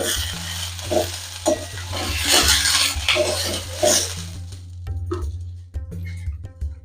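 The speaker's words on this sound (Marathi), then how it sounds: "हे दाणे आपल्याला साधारणतः असे हलके हलकेच भाजून घ्यायचे आहेत" Fresh green pigeon peas roast in a pan with a spoonful of oil and are stirred, making a soft sizzle under rhythmic scraping and clinking of a spoon against the metal pan, close by.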